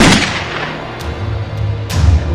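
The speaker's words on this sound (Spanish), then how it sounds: "Jiménez no logra abrir la puerta con su mano, entonces gatilla el cuarto disparo." A single loud gunshot is fired at the door of an office, a sharp burst at the start with further cracks and a heavy thump near the end over a low room rumble.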